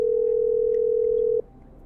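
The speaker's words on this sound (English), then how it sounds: "Okay, I'm dialing." Steady telephone dial tone in the video game Killer Frequency, a loud continuous hum lasting just over a second before cutting off into quiet background.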